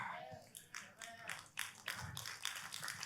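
A church congregation claps in quick, uneven bursts, faint and somewhat distant, with a voice speaking lightly underneath.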